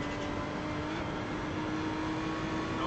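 A car powering through fast turns on the Nürburgring in third gear, heard from inside as a steady, loud engine drone. The pitch holds fairly constant with a thin whine on top, and no one speaks.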